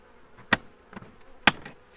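Honey bees settling in a new Apimaye hive give a faint, low buzz beneath two sharp, loud knocks about a second apart, followed by softer tapping.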